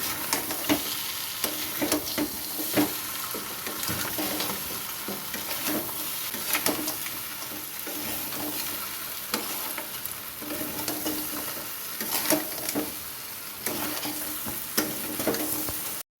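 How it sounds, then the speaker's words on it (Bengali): Fried crabs are stirred in a hot pan for a Bengali spicy oil curry, a continuous loud sizzle broken by frequent scraping stirs, with no voices. "এখন আমি ভেজে রাখা কাঁকড়াগুলো দিয়ে দিলাম। এবার ভালো করে নেড়ে চেড়ে নিতে হবে।"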